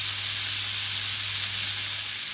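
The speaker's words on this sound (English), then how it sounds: "As they sizzle, you can smell the rosemary and the olive oil and the garlic" Lamb chops frying in olive oil with rosemary and garlic, giving a steady, dense sizzle and crackle that holds evenly throughout, close and alone with a faint low hum beneath.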